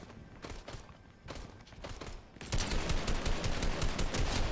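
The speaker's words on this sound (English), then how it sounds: "There's some dude shooting at me in the streets" Bursts of automatic gunfire from another player in the video game Fortnite, street combat with repeated rapid volleys that grow louder and denser partway through, some shots sounding close.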